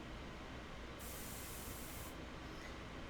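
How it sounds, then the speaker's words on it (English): An airbrush sprays India ink during portrait painting, giving a steady, soft hiss that lasts about a second before cutting off, heard alone over faint background noise. "So we're going to bring out the airbrush again."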